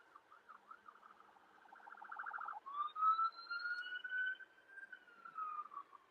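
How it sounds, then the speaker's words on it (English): An ambulance siren sounds from inside a car in traffic, a steady wailing tone rising and holding over several seconds, moderately loud and getting nearer, with no talk over it. "Ambulance."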